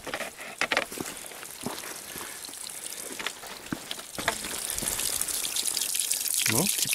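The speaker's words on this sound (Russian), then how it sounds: "То есть сейчас я помою руки в Черном море." Water splashes and trickles close by as hands are washed in the Black Sea, rubbing and scooping through it, with a steady flowing background and occasional louder splashes.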